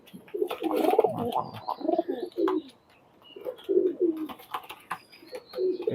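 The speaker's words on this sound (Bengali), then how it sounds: "এই যে কবুতর জোড়া টেডি গোল্ডেনের ক্রস।" A pair of Teddy Golden cross highflyer pigeons coo close by in deep, throaty bursts, several phrases separated by short quiet gaps.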